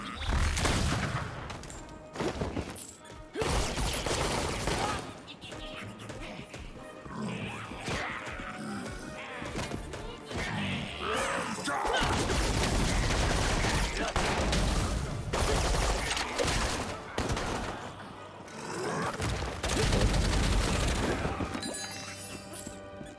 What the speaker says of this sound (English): Use it with the guns, the spinning pistols.